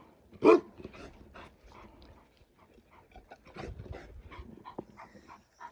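Dogs at evening feeding time give one sharp near bark followed by softer yips, whimpers and restless rustling, fairly quiet overall.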